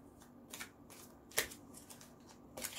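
Tarot cards are shuffled and laid out on a surface, a series of soft riffling and flicking sounds at irregular intervals, close and quiet, with one crisper snap midway.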